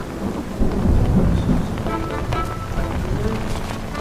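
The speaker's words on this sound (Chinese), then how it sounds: "怎么下雨了？" Steady rain pours down with a low rumble of thunder rolling through the first seconds, the downpour continuing evenly and fairly loud with no talk over it.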